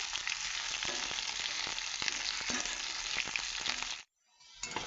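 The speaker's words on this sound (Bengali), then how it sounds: "ফুলকপিটা একটু আগে ভেজে নিচ্ছি তেলে" Cauliflower frying in oil, a dense, even sizzle with light crackles and a few stirring clicks, close by, cutting off abruptly near the end before faintly resuming.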